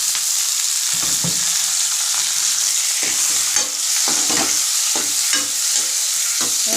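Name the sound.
sautéing tomatoes in a pan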